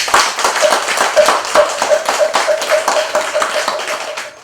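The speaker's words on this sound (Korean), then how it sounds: "감사하다고 박수 한번 주시죠." At a Buddhist university entrance ceremony held in a temple, an audience gives a short round of applause, brisk close-up hand claps with a sharp rhythmic edge, fading toward the end.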